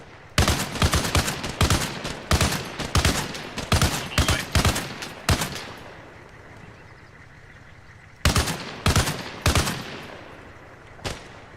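Rapid bursts of automatic gunfire crack out in the Arma Reforger video game, loud and close, in tight clusters of shots for several seconds, then a pause before more bursts and a final lone shot.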